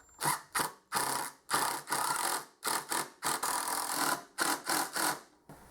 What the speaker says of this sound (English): we'll put the 2 13mm bolts in the big holes on the bottom